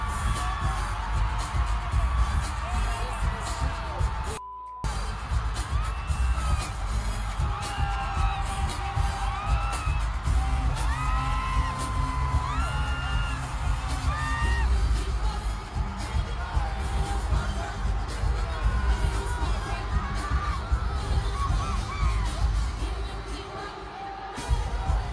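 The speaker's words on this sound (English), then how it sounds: "A lot of the audio was just a bunch of fans screaming in the background" Fans scream, cheer and whoop at a reunion concert, a dense, loud crowd roar that runs continuously, with one brief dropout near the start.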